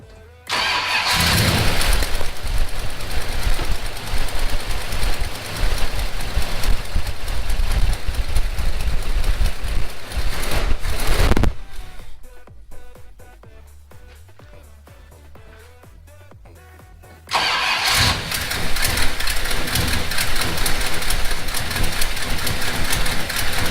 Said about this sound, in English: now we are going to start it up one more time and listen to that cam thump